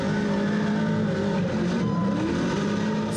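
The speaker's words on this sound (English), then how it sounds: "U.S. Marine veteran Joanna Sweat got a chance to buckle up as a passenger in a drift car" A drift car's engine revs hard and steady at close range, a dense, continuous roar with shifting pitch and no voices over it.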